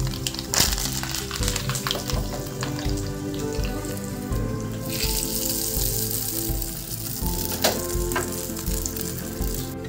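Mustard seeds and dried red chillies sizzle hard in hot oil for a dhokla tempering, a loud, steady frying hiss with crackling pops throughout, close and alone.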